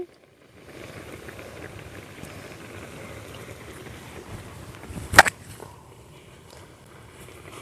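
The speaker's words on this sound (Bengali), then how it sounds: "টকটা ফুটে এসছে" Sour shrimp and taro stalk curry simmering in a pot, a steady low bubbling hiss running throughout with one brief sharp clatter near the end.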